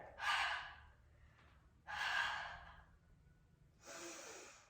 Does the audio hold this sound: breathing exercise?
yes